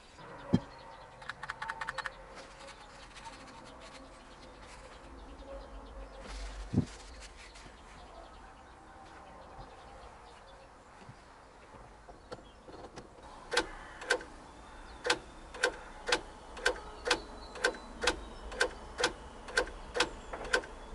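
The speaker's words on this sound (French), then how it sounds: "maintenant quand j'appuie sur le bouton, ça se déloque à chaque coup" The electronic trunk release button on a Kia Picanto is pressed over and over, and the lock clicks about a dozen times in a steady rhythm, after some earlier scattered clicks and handling noise.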